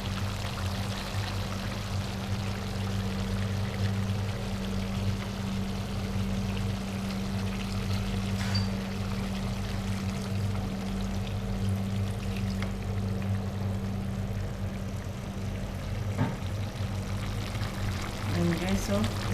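Vinegar pours into native chicken adobo in a pot, giving a steady, continuous liquid rush over a low background hum with a voice faintly underneath.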